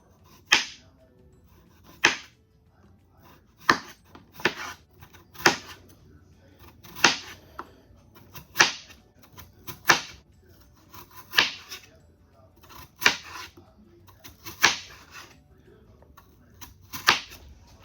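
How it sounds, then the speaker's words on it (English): A knife cuts rinsed potatoes into thin slices on a board, sharp crisp chops landing one at a time in a loose, roughly even rhythm, close and clear, with quiet pauses between strokes. "So now we're going to cut them into thin slices."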